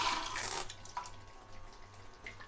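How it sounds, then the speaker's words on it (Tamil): Water poured from a glass into a pan of baby corn gravy, a short, soft splashing rush at the start that fades into quiet trickling. "இந்த கிளாஸில் இருக்க தண்ணி அதில் ஊற்றிக்கிறேன்"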